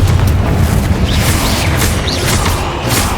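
A fiery Confringo blast spell in the video game Hogwarts Legacy, heavy booming rumble that stays loud and sustained throughout, with crackling bursts layered over a continuous low roar.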